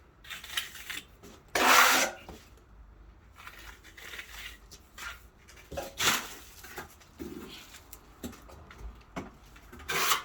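Trowel working stucco texture onto a wall, scattered rough scraping strokes of varying length, one louder sweep early then softer rasps and smears, close and fairly quiet with no talk.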